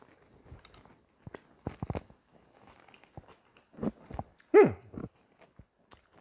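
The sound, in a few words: chewing pulled banana peels in barbecue sauce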